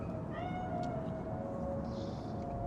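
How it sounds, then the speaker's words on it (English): A cat meows a few times in Cyberpunk 2077, short rising cries that are moderately close over a low ambient hum and background noise. "Chill, just a cat."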